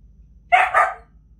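A 12-week-old female puppy gives two quick, close barks in a row, a short sharp double yap over a quiet room.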